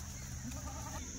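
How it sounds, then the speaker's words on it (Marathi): A herd of goats gathered for sale at a trader's yard, with bleats blending into a dense, continuous din of livestock noise at a steady level throughout. "किती शेळ्या आहेत, भरपूर शेळ्या आहेत"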